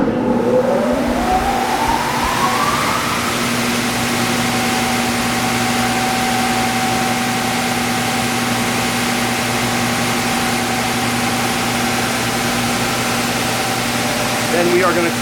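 Timesavers three-head 52-inch wide belt sander with its first head starting, a rising whine that settles into a loud steady machine drone and hum for the rest of the stretch.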